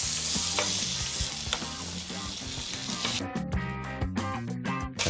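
Sweet soy sauce (kecap) hits a hot frying pan and sizzles loudly and steadily, with clanking stirring strokes scattered through it; no one talks.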